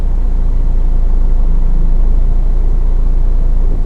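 A Suzuki Carry utility van's engine runs at a steady, car-like idle, an even low hum and rumble that stays constant and close for the whole moment.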